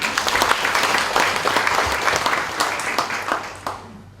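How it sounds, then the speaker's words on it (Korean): Dense, sustained applause fills a hall at a university labor union general assembly, a large seated crowd clapping loudly and continuously before it tapers off at the end. "여러분 박수 한번 주시기 바랍니다."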